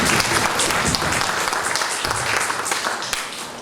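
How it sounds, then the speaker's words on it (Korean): An audience at a church memorial hall gathering applauds in praise of God, a loud, steady roar of many hands clapping that holds throughout. "우리 하나님께 영광의 박수 한번 드리겠습니다."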